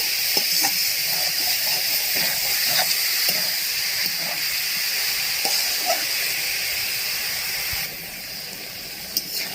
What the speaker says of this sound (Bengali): বাঁধাকপি দিয়ে একটু ভালো করে কষে নেব